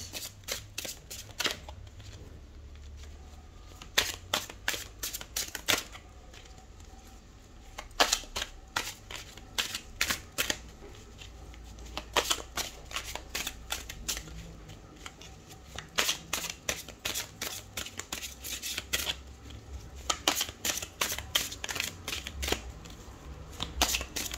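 Mystic tarot cards are shuffled close up, giving crisp irregular flurries of snapping and riffling card edges over a quiet room, with short pauses between bursts.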